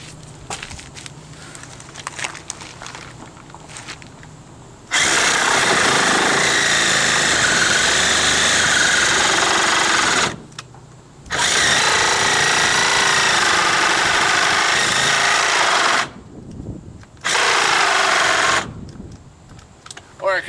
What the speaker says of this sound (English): I'll show you guys me Sawzalling this bad boy off.